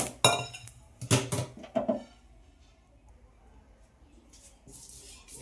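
Chutney powder moved from a pan onto a plate in a home kitchen: a few quick metallic clinks and scrapes in the first two seconds, then near silence with light rustling.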